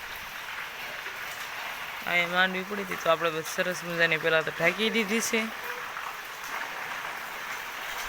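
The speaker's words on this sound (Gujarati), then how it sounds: "હમણાં ચાલુ છે વરસાદ ટપ ટપ ટપ ટપ" Steady patter of drizzling rain dripping fills the background throughout, while a person speaks in Gujarati in the middle stretch over the constant wet hiss.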